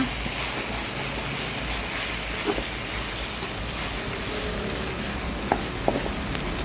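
Instant Korat rice noodles with sugar and chili stir-fry in a pan, giving a steady close sizzle with a few faint scraping and tapping sounds.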